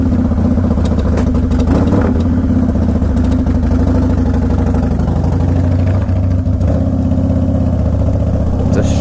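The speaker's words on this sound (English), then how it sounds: "It's a strong sounding engine." A Harley-Davidson Softail Standard motorcycle engine idles loud and close, a deep, steady rumbling throb with a rhythmic lopey pulse that holds throughout without speech.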